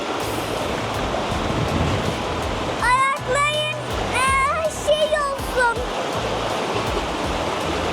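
River water rushes steadily through a canyon in Turkey as people wade across, a loud continuous close flow with voices talking over it midway.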